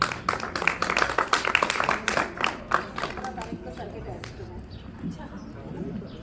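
An audience claps at a Republic Day prize ceremony as a first-prize winner of a computer competition is honoured. The applause is a brisk burst that fades out after a few seconds, with a voice talking over it.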